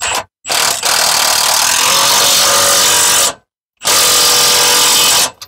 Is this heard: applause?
no